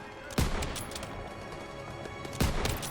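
Gunfire in the video game Call of Duty: WWII, two sharp loud shots about two seconds apart over a steady busy battlefield background, with someone talking in Turkish.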